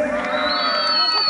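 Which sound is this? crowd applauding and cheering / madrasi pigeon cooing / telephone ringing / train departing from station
crowd applauding and cheering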